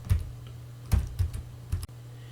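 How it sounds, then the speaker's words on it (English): Keys on a computer keyboard are pressed in a few separate close clicks with pauses between them, over a steady low hum and without any talking. "you can use the keyboard keys to move the turtle up and down"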